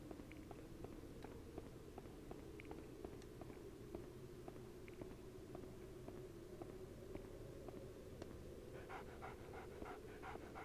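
Hewie the dog panting in the video game Haunting Ground, quick rhythmic breaths repeating steadily throughout, faint and close, with light pattering steps near the end and no voices.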